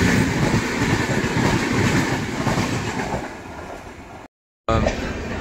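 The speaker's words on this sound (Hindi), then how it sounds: "जो क्रॉसिंग होने वाला ट्रेन था वो भी आ रहा है पीछे से" A long train rolling past at a railway crossing on the way to Samastipur, its loud continuous rumble and wheel clatter sustained and close, with a brief gap in the sound before the roar resumes.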